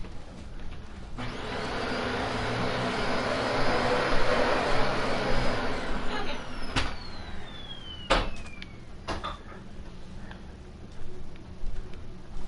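A steady, loud, vacuum-like whooshing roar fills the Minecraft Lucky Skyblock game, then eases into a lower hum broken by a few sharp clicks and knocks.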